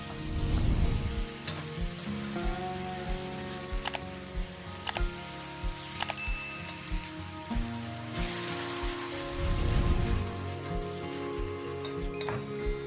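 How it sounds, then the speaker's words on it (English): Ground pork frying in a pan while a spatula breaks it into chunks, a soft intermittent sizzle with sharp scraping taps and two louder bursts of stirring, no voices. "Use a spatula to break it into chunks and keep frying it until you no longer see any raw meat"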